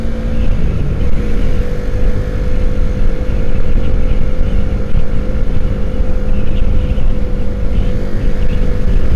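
Suzuki Satria FU 2009 motorcycle cruising in sixth gear, its engine droning steadily and loud at close range with constant wind rush and no pauses.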